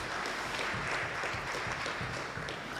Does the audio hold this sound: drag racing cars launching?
no